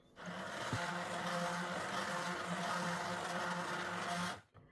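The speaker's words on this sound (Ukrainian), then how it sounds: "Так, Зараз з блендером ще разочок пройдуся." An electric hand blender whirs steadily through pumpkin soup, a loud, even motor drone lasting about four seconds before cutting off abruptly.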